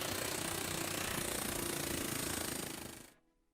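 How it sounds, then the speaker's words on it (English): A pneumatic air chisel fitted with a sheet-metal cutting bit hammers steadily in a loud, dense, continuous chatter, then cuts off abruptly near the end. "We use a power tool called an air chisel. It has a bit that's designed for cutting sheet metal."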